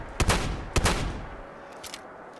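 A four-barrel shotgun fired in Fallout 4, fitted with a modded exo-frame: two loud, close booms about half a second apart with a rumbling tail, then fainter shots trailing off, no talking over them.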